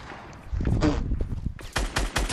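Gunfire in the Fortnite battle royale game, with bursts of rapid shots and a few separate cracks over about two seconds, fairly close and loud, plus faint footsteps.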